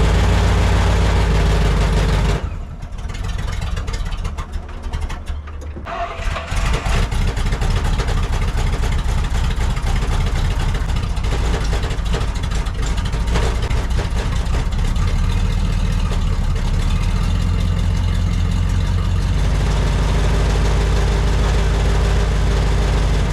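A rare military prototype truck engine runs loud and close, a rough, steady rumbling idle that dips briefly early on before settling into a smoother, even idle.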